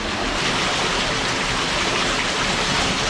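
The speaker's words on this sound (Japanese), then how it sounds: "多分ね、滝の音で聞こえないかもしれないけど" Waterfall at a supposedly haunted spot at night, a steady, loud broadband rush of falling water filling the whole clip without a break, no voices heard.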